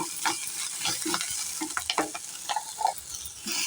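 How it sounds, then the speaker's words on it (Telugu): Ginger garlic paste fries with onions and green chillies in a pan, a close, continuous sizzle broken by repeated stirring scrapes and clinks. "ఇప్పుడు కాస్త అల్లం వెల్లుల్లి పేస్ట్ వేస్తున్నానండి. ఇది కూడా కాస్త ఫ్రై చేసుకోవాలి."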